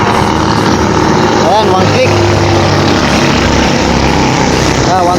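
A Kawasaki CT100 motorcycle with a faulty start and leaking oil idles as a loud, steady engine drone close by, while someone talks over it.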